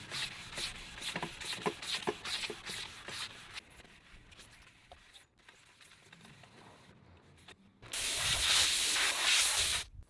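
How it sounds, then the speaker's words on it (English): A car wing on an Evo 8 is flat sanded by hand with 600 grit sandpaper, giving quick rhythmic rubbing strokes up close that thin out into quieter scuffing, then a loud steady hiss takes over near the end. "let's flat sand this blade, this wing, with 600 grit and get this thing just perfectly smooth"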